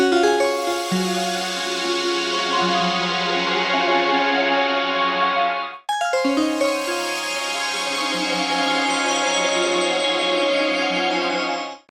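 A sustained synth chord rings out through the Botanica synth's bubbly spectral reverb, a shimmering wash, then cuts briefly and swells back with a new chord, with no voices.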